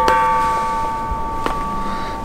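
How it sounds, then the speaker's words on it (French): The medium church bell at the Collégiale de Vitry-le-François rings with a sustained, humming tone, struck again about a second and a half later, ringing out clearly with no voices. "Celle-là, c'est la moyenne cloche."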